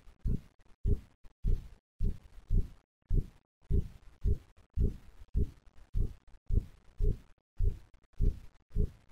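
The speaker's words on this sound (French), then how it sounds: "j'entends distinctement un battement de cœur" Steady heartbeat thumps repeat in regular paired beats, about fifteen strong low pulses in a row, heard clearly and alone in a quiet house during a paranormal investigation.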